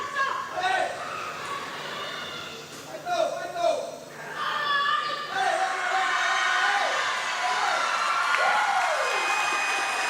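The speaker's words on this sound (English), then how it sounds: "And the crowd love it." Crowd of young spectators at a weightlifting competition cheering and shouting, with whoops and voices rising and falling in swells that fill the hall, loud and continuous with no pause.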